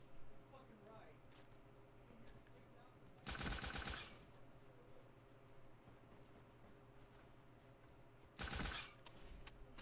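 Gun firing rapidly in Call of Duty Black Ops 3: two loud bursts of rapid automatic fire, each under a second long, a few seconds apart, with quieter game sounds and talk between them.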